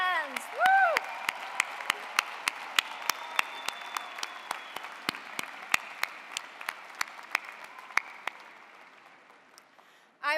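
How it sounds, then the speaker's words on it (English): Graduation audience at a university business school commencement breaks into applause, a dense crowd of claps with a whoop near the start, sustained steadily before fading out. "Graduates, let's give a big round of applause in appreciation of your family"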